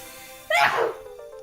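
A single short sneeze from the Dragon Quest Builders video game bursts out sharply, followed by near silence.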